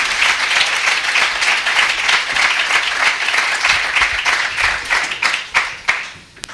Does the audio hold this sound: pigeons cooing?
no